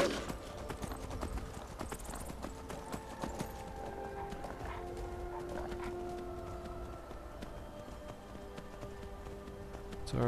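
Horse hooves clip-clop steadily along a road in Skyrim, a continuous trotting rhythm under game ambience and faint background music, moderately close and not loud.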